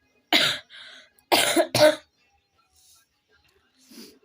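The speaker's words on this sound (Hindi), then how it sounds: "मुझे खांसी भी आ रहा है" Three sharp coughs in quick succession, close and fairly loud, with softer breathy bursts between and a faint noise near the end.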